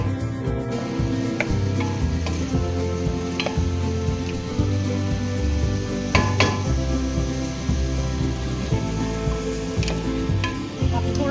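Chopped tomatoes for a biryani go into hot oil, which hisses in a steady, close sizzle while a spoon clinks and scrapes the pan now and then as they are stirred, with no voices.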